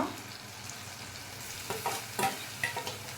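Fresh prawns fry in a pan with a steady sizzle, and a few clattering stirs near the end come through close and clear.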